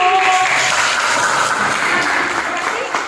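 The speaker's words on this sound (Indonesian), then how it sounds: "nah tepuk tangan dulu." A school classroom full of students claps together in a dense, steady burst of applause lasting a few seconds, close and fairly loud, with some voices mixed in.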